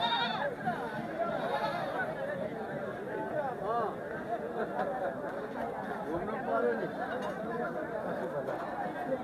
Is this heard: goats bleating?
yes